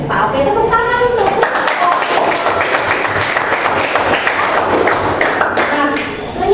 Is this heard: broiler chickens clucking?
no